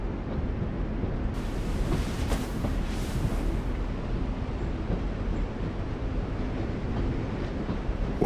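A train rumbles steadily in The Walking Dead video game, a low continuous roll of rail noise with a brief louder burst early on, no voices present.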